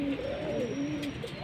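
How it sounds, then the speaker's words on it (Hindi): Pigeons cooing softly in a steady low warble, a close continuous call at modest volume with faint background noise. "2 आपको दिखाए थे पहले, टैडी और एक था अली वाला कबूतर।"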